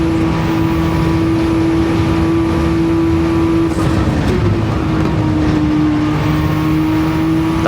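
A 1983 Porsche 956 race car's 620-horsepower flat-six twin-turbo engine drones loudly and continuously at high revs on the Nürburgring, its steady pitch dipping slightly partway through as the car runs on.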